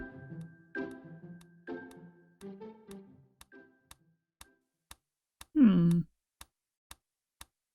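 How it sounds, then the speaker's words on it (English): A mysterious ticking noise sounds as regular, sharp ticks about twice a second, beginning under sung voices and continuing alone after a brief loud vocal outburst. "What is that mysterious ticking noise?"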